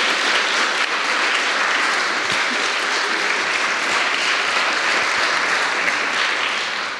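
Loud, dense audience applause at a youth hackathon closing presentation in Dresden, sustained evenly for about seven seconds before easing off at the end.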